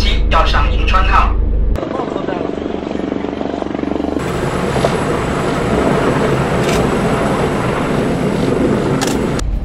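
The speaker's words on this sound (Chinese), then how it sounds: "有一架直升机要上银川号。" A helicopter approaches to land on the Yinchuan, a Type 052D destroyer at sea, its steady rotor and turbine roar filling the scene after a short burst of talk at the start, loud and continuous.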